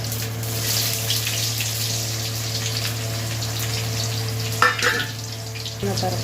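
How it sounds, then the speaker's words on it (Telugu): Seeds, chopped onion, green chillies and curry leaves fry in hot oil, a steady loud sizzle with a couple of brief clatters from stirring. "ఆయిల్ వేడెక్కిన తర్వాత ఇందులో కొద్దిగా తర్వాత గింజలు, ముందుగా కట్ చేసుకున్న ఉల్లిపాయ, పచ్చిమిరపకాయ, కరివేపాకు"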